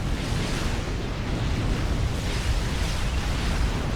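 Cruiser fire and explosions in the video game Supreme Commander: Forged Alliance, a dense continuous roar of booming blasts and rumbling impacts, loud and unbroken throughout with no talk.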